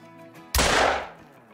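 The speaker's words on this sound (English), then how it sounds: "take a shot at about 100 yards and see how well we do." A single loud, close blast from a 12-gauge Benelli shotgun firing a slug at a woodland target range, a sharp crack followed by a short rumbling decay into quiet.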